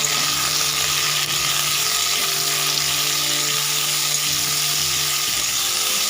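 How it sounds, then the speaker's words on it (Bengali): Jujube pickle stirred in hot mustard oil, giving a steady, dense sizzle of frying with a faint scraping of stirring throughout, close and continuous without pauses. "এটাকে একটু ভালো করে এখন নাড়তে থাকবো"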